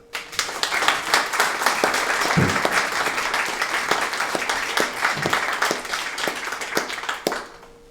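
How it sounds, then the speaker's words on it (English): An audience at a comedy performance bursts into sustained, lively applause for a performer, many hands clapping close and loud for several seconds before it tapers off at the end. "Please give a huge round of applause to Andrew Robertson."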